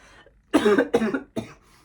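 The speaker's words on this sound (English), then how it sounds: "sorry guys, I just coughed actually." Three close, loud coughs from one person burst out in quick succession, with no talking around them.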